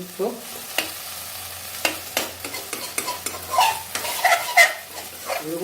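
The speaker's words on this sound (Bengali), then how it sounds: "কিছুক্ষণ নাড়াতে থাকতে হবে" A spatula scrapes and stirs small fish curry as it fries in a pan, sizzling steadily with repeated sharp stirring strokes close by, no talk over it.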